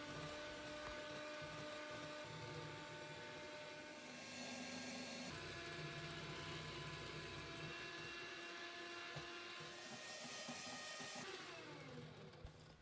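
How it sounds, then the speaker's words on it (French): Electric mixer beating egg yolks with sugar in a bowl, a steady whirring motor hum that runs continuously and alone, shifting pitch slightly a few times as the beaters move. "Puis je vais battre de nouveau environ 5 minutes."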